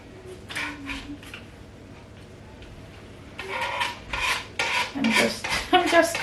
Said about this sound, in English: I'm just scraping everything from the wrap, don't mind me.